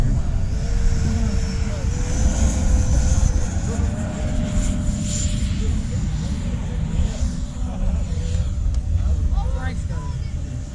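Freewing Yak-130 RC model jet taking off, a steady loud whine with a rising tonal pitch over broad rumble and wind, with a person talking over it near the start.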